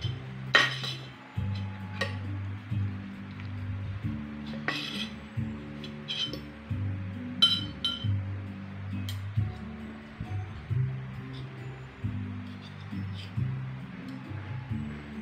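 Utensils clink and scrape against a bowl while a vegetable salad of lettuce, carrot, cucumber and tomato is tossed, giving repeated light clatters and taps over soft background music.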